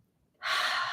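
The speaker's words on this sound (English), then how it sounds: "Take a deep breath in" A single deep inhaled breath, starting abruptly after a brief silence and continuing as a close, steady airy rush.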